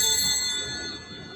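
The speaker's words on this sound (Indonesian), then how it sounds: "Miss Dinar membunyikan lonceng hanya 1 kali." An altar server strikes a bell once during Mass, a single bright metallic ring that starts loud and close and then slowly fades as it sustains.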